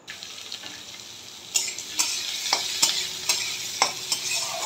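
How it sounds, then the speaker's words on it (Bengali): Onions sizzling in hot oil in a pan while making dhokar dalna, a steady frying hiss broken by several sharp stirring scrapes of a spatula, close and fairly loud. "এই সময়তে আমি পেঁয়াজটা ভেজে নেব।"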